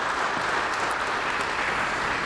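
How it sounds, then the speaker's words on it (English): Steady, dense applause from a large crowd at a Wayne State hall of fame induction, continuous and fairly loud throughout with no voices standing out. "Give yourselves a round of applause"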